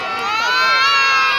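A loud crowd at a Christmas Eve show at Movie World on the Gold Coast cheering and shouting, with high excited voices, sustained and steady throughout.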